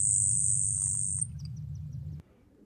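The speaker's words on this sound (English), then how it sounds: "that little tinkle at the beginning, and then the buzz" A grasshopper sparrow sings its song, opening with faint tinkling notes and then a thin, high, insect-like buzz lasting about a second, over a low steady background rumble before falling quiet.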